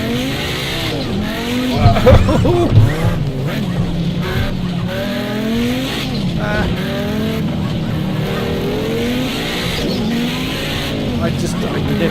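Rallycross race cars in a racing video game, engines revving and shifting with repeated tire squeals and skids, continuous and loud, with someone talking and exclaiming over the engine noise.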